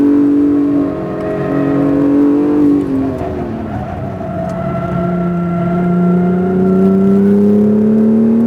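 Acura NSX sports car on a race track, its engine rising and falling through revs and downshifts in a loud, close onboard whine and rumble with no speech.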